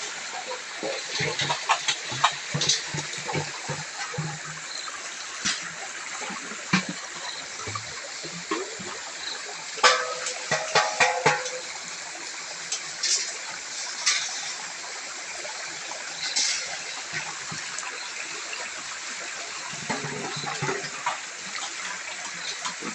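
A clear, shallow stream babbles over its bed in a rural setting, a steady continuous wash of water with occasional splashes and knocks of metal pots being filled, no talk.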